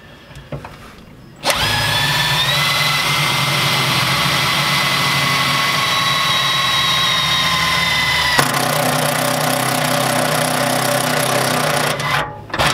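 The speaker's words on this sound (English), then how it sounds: "So I'm going to use this step drill to drill those holes" A step drill bores holes through a metal battery box for a tiny trailer solar setup, a loud steady whining drone that starts abruptly, runs for about ten seconds with a brief shift partway, then stops.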